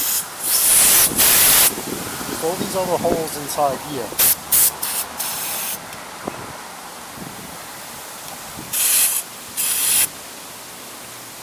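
Someone talks briefly while several sharp hissing bursts of aerosol carb cleaner, sprayed into the carburetor holes of a RedMax EBZ7500 backpack blower, come in short pulses, with a couple more bursts after the talking stops.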